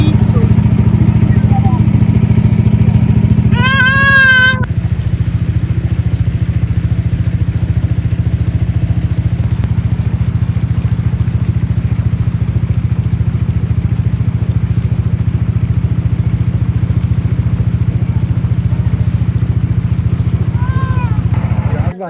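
Motorboat engine running on a river boat, a steady loud low drone that holds throughout, with a brief high whistling or squeal near the start and faint voices in the background.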